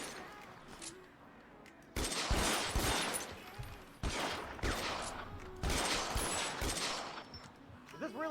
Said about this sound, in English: Who is shooting me from where?